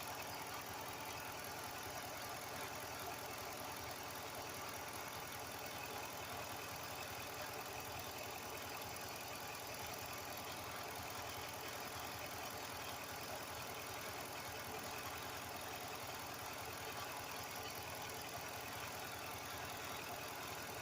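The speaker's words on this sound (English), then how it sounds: "not to even rev it at all when it's sitting at idle" A car engine idles steadily while warming up, a faint, even hum with a light knocking rumble that holds unchanged throughout, with no voices.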